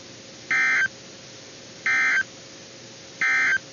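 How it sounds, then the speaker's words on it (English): Three identical NOAA weather radio EAS signal bursts from a KEC49 Monterey, California monthly test, each a loud harsh two-tone data blast lasting about a third of a second, evenly spaced over a faint hiss. "this has been a test of the NOAA weather radio warning alarm and EAS signal"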